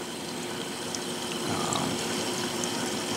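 Water from the overflow of an Innovative Marine 16 Nano Nuvo reef aquarium pours into the rear chamber in a steady, close, hissing trickle that barely changes.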